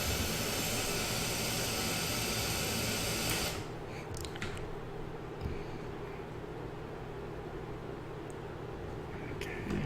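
Roaring jet engine of an F-5E Tiger II at full afterburner in the DCS flight simulator, a loud broadband rush for the first few seconds that drops to a steadier, quieter hum with some faint clicks.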